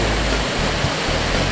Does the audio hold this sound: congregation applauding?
no